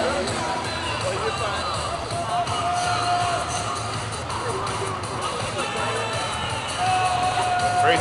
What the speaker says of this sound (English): Crazy crowd back there.